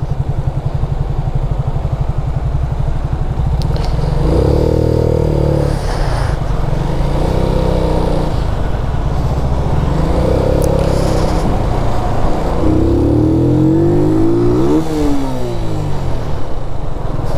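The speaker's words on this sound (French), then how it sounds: "La moto qui commence à s'énerver" A Keeway motorcycle revving hard in heavy rush-hour traffic, its engine note rising and falling in repeated loud surges over a constant low engine drone.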